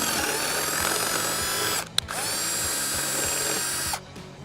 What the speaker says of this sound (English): when you start with a small bit, it's pretty easy to work your way through